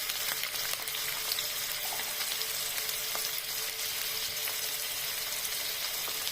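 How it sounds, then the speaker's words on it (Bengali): Potatoes fry steadily in hot oil in a pan, a continuous close sizzle and crackle with faint scrapes, no one speaking over it. "আলুগুলো আমি ভালো করে ভেজে নিচ্ছি।"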